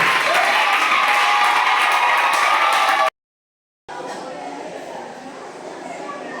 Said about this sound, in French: On l'encourage par les applaudissements.